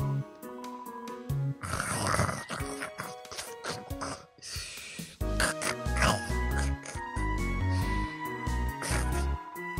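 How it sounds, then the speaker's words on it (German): A ghost in Undertale snoring loudly while pretending to sleep, with rough grunting snore sounds repeating over chiptune game music, and a voice talking intermittently. "Der Geist gibt ein lautes Schnarchen von sich und tut so, als würde er schlafen."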